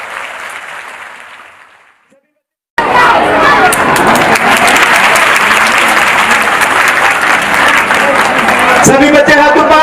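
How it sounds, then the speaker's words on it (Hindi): Schoolchildren applauding at a school annual function, a loud, dense burst of crowd clapping that starts abruptly after a faint fading tail and a brief silence, with voices and shouts mixed in. "तालियां बजाएं सभी बच्चे जो थे"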